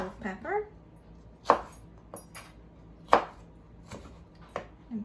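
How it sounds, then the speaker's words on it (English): A knife chops pimento pepper on a cutting board, giving three or four distinct sharp thuds spaced about a second and a half apart. A voice talks briefly at the start. "we're gonna cut our pimento pepper"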